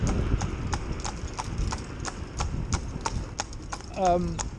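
Steady, rhythmic hooves of a Fell pony clip-clop on a hard surface at a walking pace, with a short horse whinny near the end.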